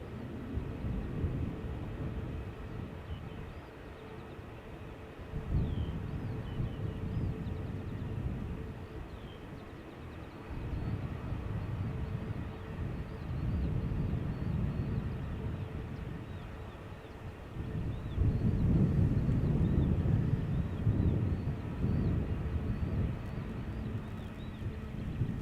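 Airbus A321neo jet airliner spooling up for takeoff on Schiphol's Polderbaan: a low, steady engine rumble that swells in stages and peaks loudest late on, heard from a distance with some wind buffeting and no talk.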